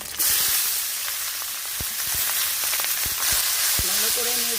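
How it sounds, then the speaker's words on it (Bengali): A hilsa fish head with chopped ash gourd hits hot oil with a loud, bursting sizzle, then keeps hissing while a utensil clacks and scrapes through the stir-fry; a voice speaks briefly near the end. "নেড়ে চেড়ে আমি ভালো করে ভেজে নেব"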